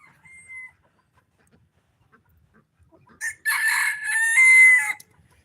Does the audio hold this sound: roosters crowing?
yes